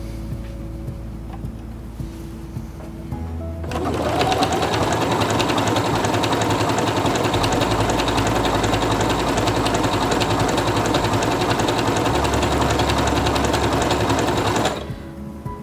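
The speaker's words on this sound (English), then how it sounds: "I'm going to stitch out the way it is right now." A Quantum Stylist 9960 sewing machine stitches a pattern, starting after a few seconds of quiet and running as a loud, steady, fast mechanical whir for about eleven seconds before stopping.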